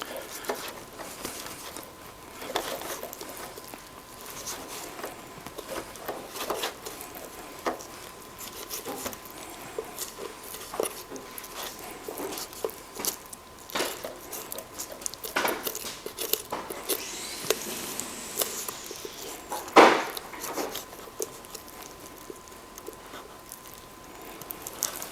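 A knife works along a turkey carcass during deboning, producing faint, irregular scraping, ticking and soft squishing cuts with a brief sharper snap near the end.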